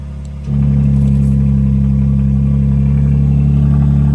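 A BMW M4 engine idles with a deep, loud exhaust drone that jumps up suddenly as the exhaust valves open after a brief quieter moment, then holds steady.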